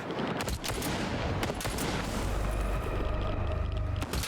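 Heavy gunfire in Stalker 2: Heart of Chornobyl as enemies fire shotguns, dense repeated loud blasts and booms packed over a rumbling din, no voices.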